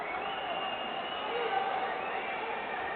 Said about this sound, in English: The crowd letting you know what they think about that call